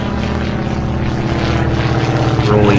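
A propeller plane in the video game Atlantic Fleet dives with a loud, continuous droning engine roar that swells slightly toward the end.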